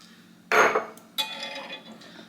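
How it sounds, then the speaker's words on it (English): Glass peach jars of homegrown plums being opened, giving two sharp, close clinks and knocks of glass and lid about half a second apart, with a quiet room between them. "we're going to open our plums that are in peach jars"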